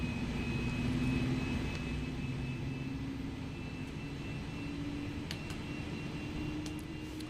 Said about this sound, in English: It's a very majestic aircraft.